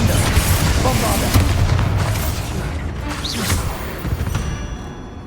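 Bombarda spell blasts boom loudly amid combat in Hogwarts Legacy, heavy low impacts over a dense, noisy mix, with a voice speaking over the fighting.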